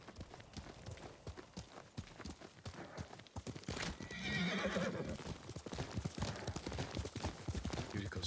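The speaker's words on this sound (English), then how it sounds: "Yuriko's horse. She can't be far." A horse in the Ghost of Tsushima video game clip-clops steadily close by, its hooves a constant rhythm, and lets out a loud whinny partway through over the hoofbeats.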